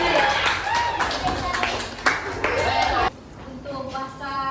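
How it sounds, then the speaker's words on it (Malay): Students in a classroom clap their hands together, a dense burst of claps running for about three seconds before dropping off, with voices chattering underneath and a softer voice continuing afterward. "Okey, tepuk tangan."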